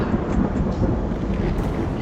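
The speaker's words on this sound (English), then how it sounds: "It is very stormy." Steady rumbling storm ambience played as a thunderstorm effect during a tabletop role-playing session, a continuous low roar of wind and pouring rain with no distinct thunder crack, fairly loud and unbroken.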